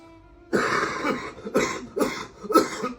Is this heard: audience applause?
no